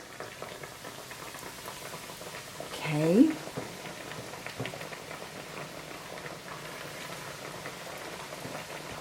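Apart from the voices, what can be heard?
fish frying in hot oil sizzling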